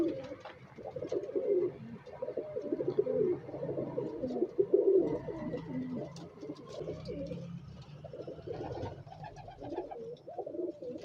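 Star pigeons cooing in a loft, with repeated soft, throaty coos in rolling phrases that come close and fairly loud, broken by short gaps, and occasional faint chirps and rustles in the background.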